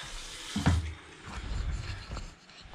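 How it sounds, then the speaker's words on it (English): Water runs and splashes from open bath taps in short gurgling bursts, fairly quiet, with a few knocks and clunks from pipework. "just leave a pair of taps open right at the top."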